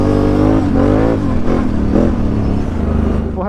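A Renegade or Scrambler 1000 ATV on a trail revs loudly close by, its engine note rising and falling as it drives past the listener.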